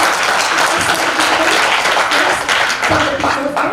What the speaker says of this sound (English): a warm applause for Group 1.